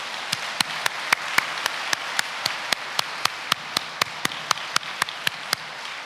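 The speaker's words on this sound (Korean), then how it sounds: "우리 김신한 신임 교구장을 여러분 환영의 박수로 맞이하시면 고맙겠습니다" A church congregation claps in a steady, evenly spaced rhythm to welcome a newly appointed district leader, with crisp, moderately loud beats and no talking.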